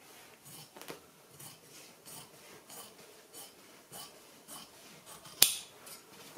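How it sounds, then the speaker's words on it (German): Scissors snip through fabric while a face mask is being cut out for sewing, giving quiet, soft rasping cuts with one sharper snip near the end. "So, ich schneide jetzt den Stoff aus."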